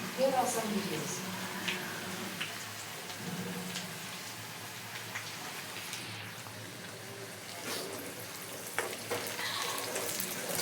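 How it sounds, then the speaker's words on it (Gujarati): Onions with turmeric and salt fry in a pan, giving a steady, close sizzle with occasional stirring scrapes, while a person talks over it throughout. "સરસ ચડી રહી છે ડુંગળી"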